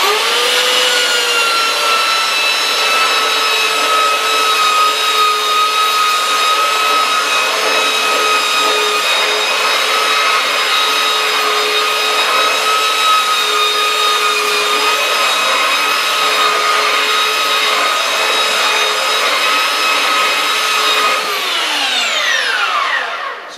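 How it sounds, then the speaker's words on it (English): Power sander grinding Cypress wood filler off a wood surface, a loud steady whine with a constant pitch that runs unbroken for over twenty seconds and then winds down at the end, with no talking. "So let's sand it off."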